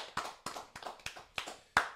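A handful of claps closes out a broadcast, six sharp, separate hand slaps at a slow, even pace, near and crisp with clear gaps between them rather than a full crowd ovation.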